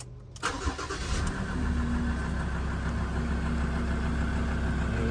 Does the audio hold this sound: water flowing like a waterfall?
no